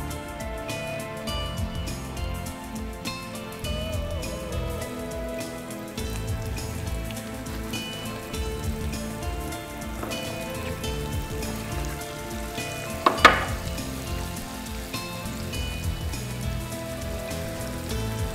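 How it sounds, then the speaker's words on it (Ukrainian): Carp sizzles and crackles steadily in a hot pan, a dense hiss like rain, with one brief clatter near the end. "І виставляємо на розігріту сковорідку."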